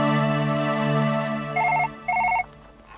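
A telephone rings in a home, with a sustained electronic tone followed by two short bursts of rapid ringing.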